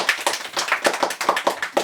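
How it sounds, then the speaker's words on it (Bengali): A few people clap their hands in a quick, steady rhythm during a playful bowl-and-bottle guessing game at home, about a dozen close, sharp claps with no talking over them. "চলো হাততালি দাও।"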